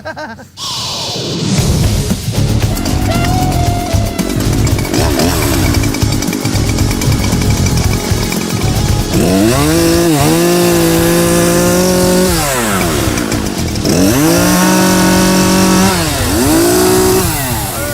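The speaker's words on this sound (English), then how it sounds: "So Finnegan broke the chainsaw" A chainsaw runs loud and close, its engine revving up and down repeatedly as it cuts, with rising and falling pitch sweeps.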